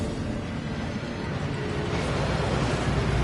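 A waterfall rushes inside Gringotts bank as a steady, loud, broadband roar of falling water that holds even for a few seconds with no pauses.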